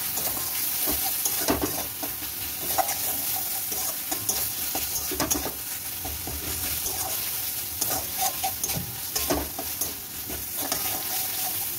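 Spinach paste with lemon juice sizzles steadily in a pan for palak paneer, with repeated scraping stirs cutting through the constant crackle.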